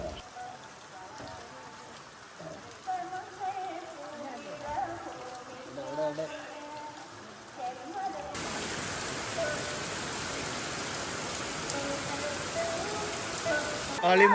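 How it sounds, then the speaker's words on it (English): Rain falling in the lush Western Ghats of Kerala on an early morning, first a softer patter with faint voices and sounds, then a steady, dense hiss of heavy rain for the second half. "It's already started raining here."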